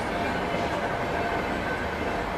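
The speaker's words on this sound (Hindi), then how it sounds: "हावड़ा राजधानी एक्सप्रेस" The Howrah Rajdhani Express rushes past as a continuous, dense roar of wheels and wind that fills the whole moment at steady, close loudness.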